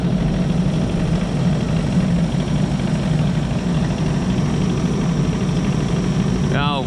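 A heavy equipment machine with nearly 6,000 hours idles steadily on a bitterly cold day after starting, a loud, even low rumble that continues throughout, with a brief voice at the very end.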